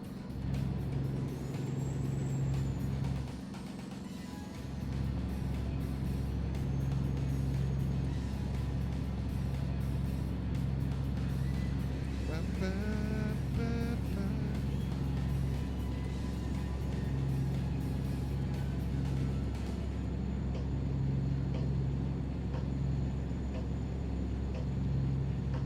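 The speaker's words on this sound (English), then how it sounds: "Truck be loud." A loud truck drives on a road, heard from the cab as a steady heavy engine drone and rumble with a hiss of air partway through, continuing without voices.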